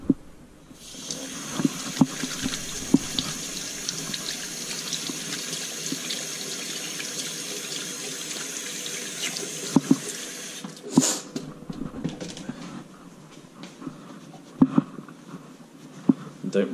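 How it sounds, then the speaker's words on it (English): A kitchen tap runs water steadily into the sink for most of the stretch as hands are rinsed during trout preparation, ending with scattered clinks and handling sounds, and speech is heard over it. "So first, I think I need to rinse my hands."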